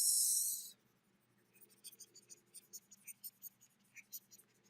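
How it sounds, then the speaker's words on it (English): Faint rhythmic rubbing strokes as writing is erased from a board in a lecture setting, a quick series of soft swipes following a brief burst of noise. "let me erase all of this."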